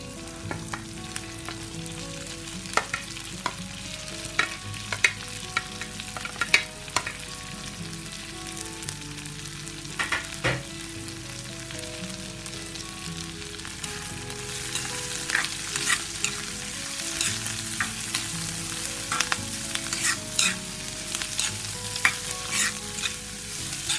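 Onions sizzle steadily in a pan of oil for a beef curry. A utensil stirs them and scrapes the pan at irregular intervals, the frying close and continuous, growing brighter and hissier toward the end.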